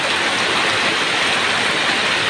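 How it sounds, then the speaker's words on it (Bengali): Heavy rain pours down steadily outdoors, a dense, even roar of falling water with no break or voices, loud and close. "অনেক বৃষ্টি পড়তেছে অনেক"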